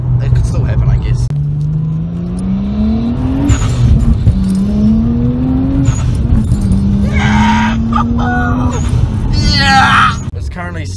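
Nissan Skyline R34 driving with a steady, loud engine drone that rises in pitch through repeated gear pulls, with a person talking throughout over the engine.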